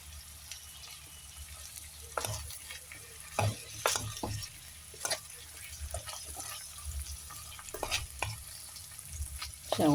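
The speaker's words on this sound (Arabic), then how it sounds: "شوحوها كده" Tomatoes are stir-fried in a pan, giving a soft steady sizzle broken by repeated scraping and stirring strokes, close and moderately loud.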